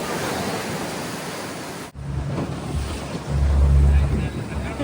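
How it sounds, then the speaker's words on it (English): Wild ride aboard a Mexican water taxi on the sea off Cabo San Lucas: rushing waves and heavy wind buffeting the microphone, with a low boat engine rumble swelling louder in the second half. "we now attempt to get back on this wild Mexican water taxi."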